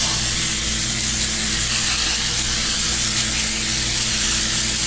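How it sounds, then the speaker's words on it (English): Cooking spray, plain vegetable oil, misted steadily onto baked chicken nuggets in a pan, a continuous close hiss running without a break. "Spray it right on your nuggets."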